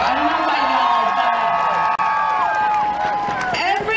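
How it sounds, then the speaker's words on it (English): At the Seattle Womxn's March rally in Cal Anderson Park, a crowd cheers and whoops for Hanan, with loud overlapping voices and shouts held steady for several seconds. "Can we just give another applause to Hanan?"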